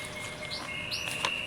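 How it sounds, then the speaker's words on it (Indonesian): A magpie robin (murai batu) chirps in short, bright tweets and a thin sustained whistle, close and clear with no talking. "merawat burung murai batu yang masih banyak ngeriwik"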